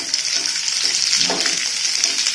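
Onions fry in a pan for a traditional Santali dish, giving a steady, close hiss of sizzling oil with a few soft stirring scrapes partway through and no talking.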